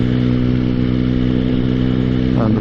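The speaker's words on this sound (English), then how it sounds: "When I'm at speed, I can just pick up the drive, give the bike a couple of seconds to settle and take a lower gear" A motorcycle cruises steadily in fifth gear at about 40, a constant mid-pitched engine drone, close and even, with no talk.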